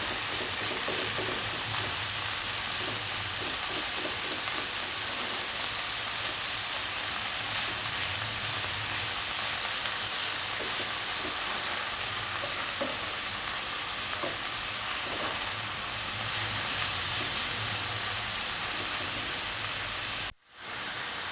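Ground beef frying on high heat, giving a loud, dense, hissing sizzle that runs steadily throughout with faint stirring ticks and a brief drop just before the end.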